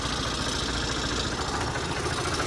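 A close, rumbling tractor engine idles steadily, a low throbbing drone with no talking over it.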